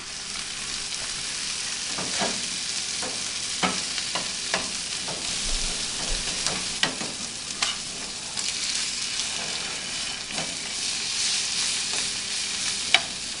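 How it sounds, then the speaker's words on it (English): An egg fries in a pan with pepper, giving a soft, steady sizzle broken by scattered crackles and pops, and no voices over it. "So we're going to cook us an egg to go with this."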